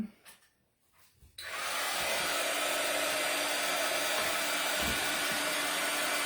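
A hair dryer clicks on and blows a loud, steady rush of air to dry paint on a wooden Christmas stocking, running continuously after a brief quiet moment.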